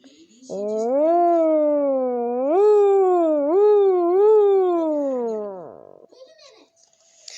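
A single sustained, rising-and-falling tonal drone, like an engine revving, made by a squeaky rubbing sound on a soda can for about five seconds, imitating a Lamborghini engine.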